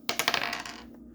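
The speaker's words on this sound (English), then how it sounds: "We're gonna roll the dice." Dice clatter and bounce on a surface, a quick series of bright ticks that settle and fade within a second.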